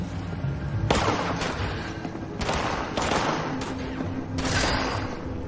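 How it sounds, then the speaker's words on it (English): Repeated gunfire bursts in the video game Fallout 76, with sharp cracks and rumbling booms, several volleys over a few seconds, loud and close against a continuous noisy background. "Oh, seeing a lot of gunshots."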